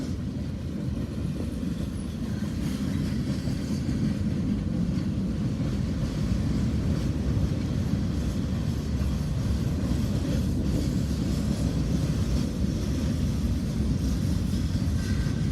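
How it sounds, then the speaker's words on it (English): A train rolls steadily into a rail yard, a continuous loud low rumble of wheels and railcars that holds at an even level throughout, with no voices. "This whole train might not get into the yard before he stops"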